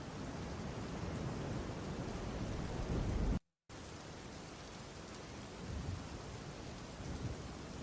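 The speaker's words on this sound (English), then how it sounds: "Let's do at sea storm ambience. Powerful thunderstorm and ocean sounds for sleeper study." Sea storm ambience of a powerful thunderstorm over the ocean, a dense steady roar of rain, wind and surf with low rumbling, loud and continuous apart from a brief dropout of silence partway through.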